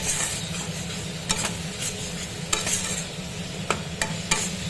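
Spice masala for a bhetki fish-bone chorchori with tomato being stirred in a pan over a low gas flame: a steady low sizzle with scattered scraping clicks of the spoon against the pan, close and alone.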